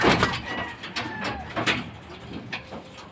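A checkered racing pigeon with white markings lands home from a training flight in Gapan, Nueva Ecija, with soft coos and brief wing rustles over steady outdoor background noise.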